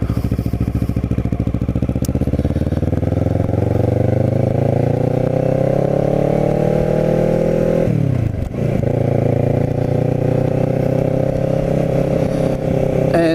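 A motorcycle is ridden on a country ride, its engine droning steadily and close with rising and falling revs as the rider shifts gears, and a brief dip in pitch partway through.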